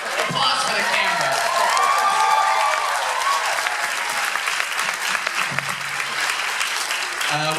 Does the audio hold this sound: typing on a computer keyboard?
no